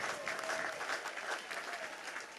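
Commencement audience applauding the university chancellor, a dense, even wash of clapping from a large crowd heard at a moderate distance with faint voices mixed in.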